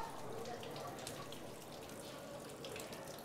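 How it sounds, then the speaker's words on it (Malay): Water flows fast through a funnel in a physics demonstration of Bernoulli's principle, a steady, fairly faint rushing stream lasting throughout with no pauses. "ini air sedang mengalir dengan laju"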